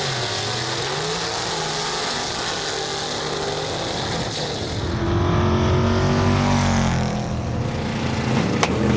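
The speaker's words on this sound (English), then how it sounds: "Methanol injected cars right here in this competition." Methanol-injected drag racing cars at a drag strip, a steady engine roar that swells and grows louder midway, with a rising pitch as a car accelerates close by.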